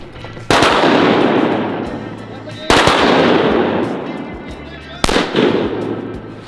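Shotgun blasts while duck hunting teal on opening day in Missouri: three loud, sharp shots spaced about two seconds apart, each followed by a long rolling echo, with outdoor ambience between.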